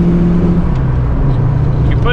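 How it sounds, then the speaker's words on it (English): A Foxbody Mustang engine cruising in fifth gear at about 1800 RPM and 65 mph, a steady low hum with road and wind noise, someone talking over it. "You put it in fifth and just cruise. I'm doing 65 right now at about 1800 RPM."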